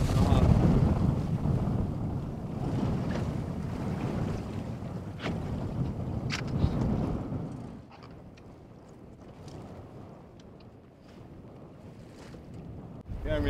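Strong wind gusts buffet the microphone on a small boat at sea, a constant roaring rush with lapping water beneath that eases partway through and then rises again, with no talking.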